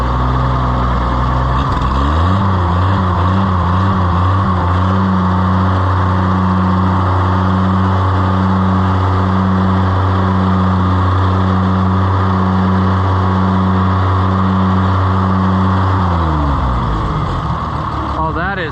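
An Oliver 880 tractor engine runs loud and close after a throttle repair, with a steady low drone, rising briefly at the start and rhythmic bumping in its note before it drops away near the end.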